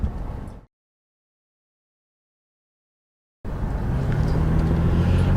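After a stretch of silence, a truck drives out of a small road in Taughannock Falls State Park, New York, its engine rumble rising and then holding steady and fairly loud until the end.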